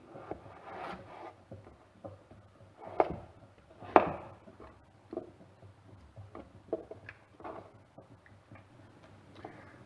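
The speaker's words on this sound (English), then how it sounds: "Make sure you cut your potatoes in equal sizes" Potatoes cut into equal pieces on a board, a run of light knife taps and ticks, scattered and fairly quiet, with a couple of sharper chops.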